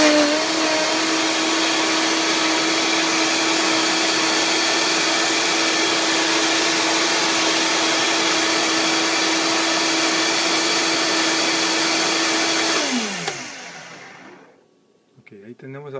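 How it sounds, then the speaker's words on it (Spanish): A blender grinds a kale smoothie with a loud, steady high whir, its motor winding down and stopping near the end. "Vamos a moler esto bien otra vez."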